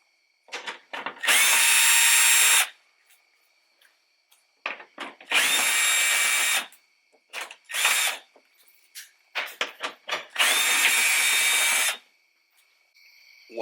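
A power drill spins out 10mm bolts on a Toyota Rav4 tailgate in several loud whirring bursts of about one to two seconds each, with short ratcheting clicks and handling noises between bursts.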